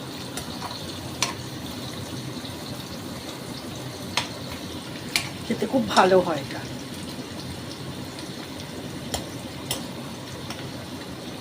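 Bitter gourd fries in a pan with a soft, steady sizzle, broken by a few sharp clicks and a brief louder burst of stirring, while a person talks over it.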